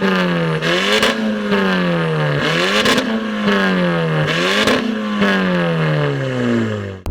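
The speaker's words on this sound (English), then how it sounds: "Sitting there revving it with the valves open" Tuned 400HP 2015 Audi TTS with an Armatrix exhaust, valves open, revved repeatedly while parked: loud, close rising and falling engine blips in a steady rhythm, with no voices.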